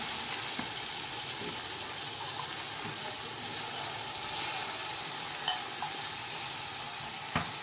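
Mutton frying in a pot with garlic, ginger and green chili paste gives a steady, close sizzle. Occasional soft clicks of stirring sound over it, and no one speaks.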